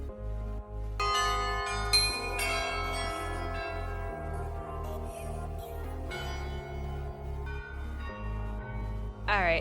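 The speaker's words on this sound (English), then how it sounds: "It hosts a musical gem every hour with its 27 bells." Church bells in Prague, a set of 27, ring out in a steady, rhythmic peal, many tones overlapping and sustained, loud and close with rich ringing overtones throughout.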